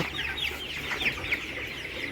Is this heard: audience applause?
no